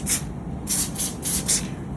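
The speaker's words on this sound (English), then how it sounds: "you use your oil spray while the hair is still wet" Oil spray misted onto wet dreadlocks in a series of short, close hissing bursts, about five quick sprays separated by brief pauses.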